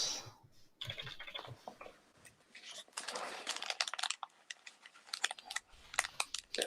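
Quiet, intermittent keystrokes on a computer keyboard come in short bursts with pauses between them, close and soft.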